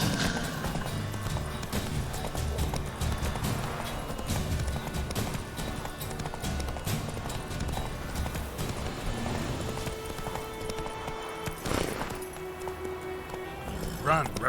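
Roach, Geralt's horse in the video game Witcher 3: Wild Hunt, gallops with steady clip-clopping hooves amid busy game sound and music, and a voice talks over it.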